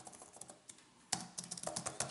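Fingers tap on a Surface Type Cover 2 backlit keyboard, a quiet patter of soft key clicks that starts sparse and becomes a quicker, denser run of keystrokes partway through.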